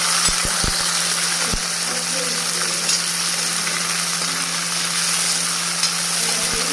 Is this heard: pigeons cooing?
no